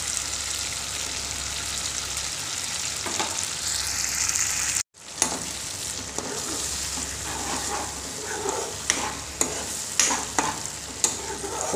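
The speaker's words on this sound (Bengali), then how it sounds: "মশলাটা যত বাজা হইব অত বেশি মজা হইব" Spice paste fries in a pan with a steady close sizzle while a spoon stirs and scrapes through it, the sound cutting out briefly partway before resuming with sharper scraping strokes.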